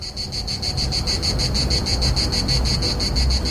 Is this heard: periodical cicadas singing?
yes